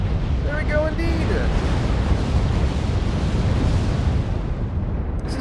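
Missiles firing and exploding in the video game MechWarrior Online, a loud, sustained rumbling blast with a few whistling tones early on, close and heavy.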